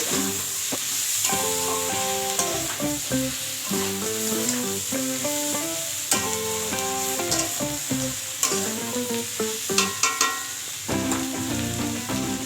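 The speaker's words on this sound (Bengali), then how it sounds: "আবারও ভালো করে নাড়াচাড়া করে" A spatula stirs mixed vegetables frying with mustard for shukto in a pan, giving repeated scraping strokes and sharp clinks over a loud, steady sizzle.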